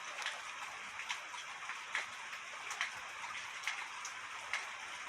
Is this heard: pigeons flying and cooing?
no